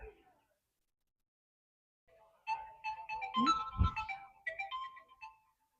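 A mobile phone ringtone plays for about three seconds as a short melodic tune after a near-silent pause, fairly quiet and close by.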